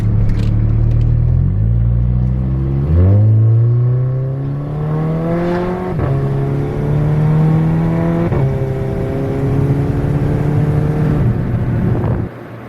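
A Volkswagen MK7 GTI engine revs hard while driving, its loud droning note climbing through the gears in repeated rising sweeps, each broken by a brief dip at the shift, heard from inside the car.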